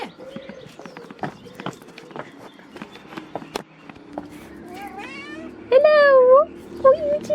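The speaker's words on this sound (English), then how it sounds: "I hear my cat too" A pet cat meows outdoors in strong, rising and falling cries near the end, with birds chirping faintly behind and scattered talk and household noise earlier.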